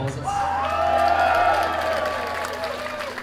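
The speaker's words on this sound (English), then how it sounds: "He deserves a round of applause" Applause with cheers and whoops from a concert audience, rising around sustained sung or instrumental tones and tapering off over a few seconds.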